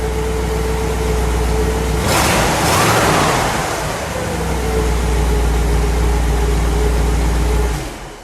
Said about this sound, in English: Go ahead, give it a rev, would you?